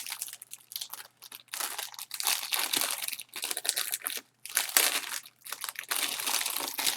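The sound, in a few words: opening packaging of Rii Mini Keyboard X8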